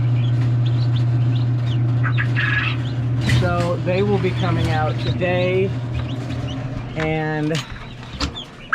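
Newly hatched chicks, a day out of the hatcher on a farm, peep faintly in the background while a person talks over them throughout.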